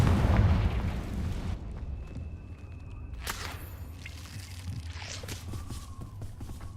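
A Confringo spell explosion in Hogwarts Legacy opens with a loud, deep booming blast that rumbles and fades into lighter crackling debris and scattered game effects.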